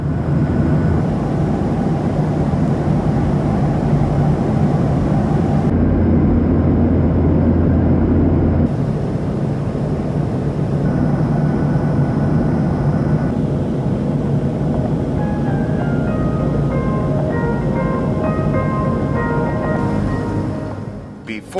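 Steady, loud cabin roar of a Southwest Boeing 737-700 cruising over the Mojave Desert on a short hop to Burbank, a broad constant rush of engine and airflow that dips slightly partway through, with no talk.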